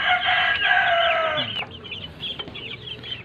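Chickens and roosters cluck and crow in a small backyard poultry coop during breeding season, a loud, dense chorus up close at first, then thinning to scattered calls.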